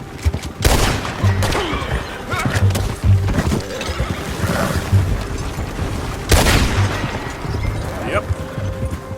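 Gunfire in Red Dead Redemption 2 rings out as several sharp loud shots among horse whinnies and hoof clatter, with other game noise around them.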